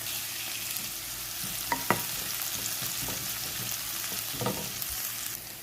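Small onions frying in hot coconut oil, a close, continuous sizzle broken by a few sharp scraping taps from stirring, with no voices.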